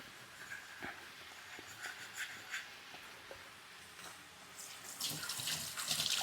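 A kitchen tap runs into a sink while dishes are washed, a soft water flow broken by light clinks and rubbing, louder near the end.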